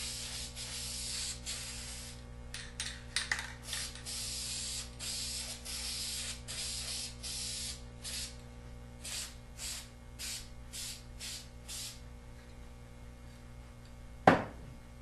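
Spray can finish hisses onto a wood project in a long continuous burst followed by a series of short, close sprays separated by brief gaps, ending with a sharp clack.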